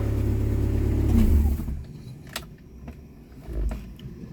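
A Ford Aspire three-door car engine with its stock exhaust revs up with a fairly quiet, mellow exhaust note, then drops back to idle with a brief second rise near the end.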